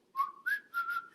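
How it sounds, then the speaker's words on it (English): A short human whistle, four quick chirping notes rising slightly in pitch, clear and close. "So we give a little whistle,"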